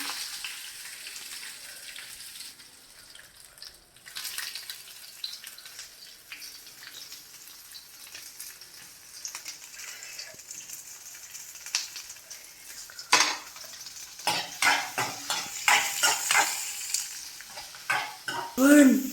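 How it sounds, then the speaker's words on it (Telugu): Chopped onions frying in oil in a pan, with sizzling and repeated scraping stirs of a metal spoon that grow louder and more clattering toward the end, with no talk over it. "ఈ ఆనియన్స్ని కూడా ఫ్రై చేసుకున్నాం."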